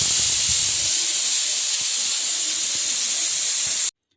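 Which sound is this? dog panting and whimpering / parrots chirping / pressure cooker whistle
pressure cooker whistle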